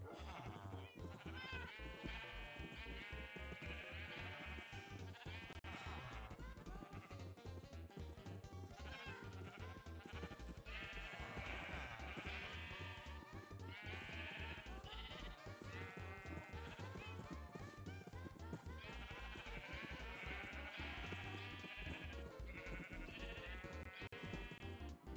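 Continuous sheep bleating in Minecraft, many overlapping calls and a dense, busy farmyard chorus with a steady level throughout.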